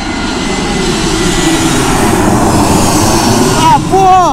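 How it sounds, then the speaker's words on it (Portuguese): A loud airplane engine roars and rumbles steadily close overhead near an airport, with voices briefly audible near the end. "Ó, avião vindo."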